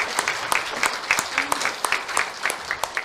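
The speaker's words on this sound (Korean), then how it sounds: "하나님께 영광의 박수 드립니다" Rhythmic clapping from a church congregation at a Korean Methodist Sunday service, moderately close and fairly sparse, with evenly spaced claps.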